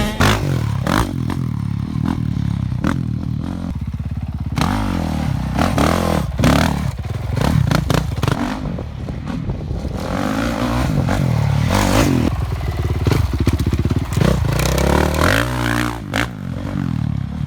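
A Honda CRF450R dirt bike engine runs up close, revving in repeated bursts with throttle blips and dropping back between them, plus some mechanical clatter.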